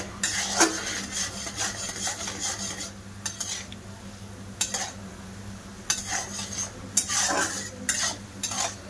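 Sugar melts over heat into a sticky syrup for crispy khaja sweets. A spoon scrapes and stirs against the pan in irregular bursts, close and moderately loud, over a steady low hum.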